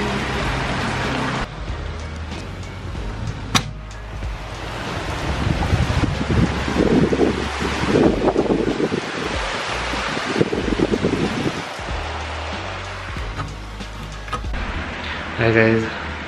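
Strong wind roars as a steady, rushing broadband noise against a closed window during a stormy day with rain, with a voice talking over it throughout.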